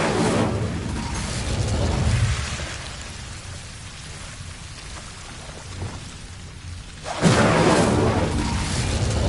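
The Incendio fire spell in Hogwarts Legacy gives off broad, rushing, crackly bursts: one early swell that fades into a softer hiss, then a sharp, louder whoosh near the end. Nobody speaks.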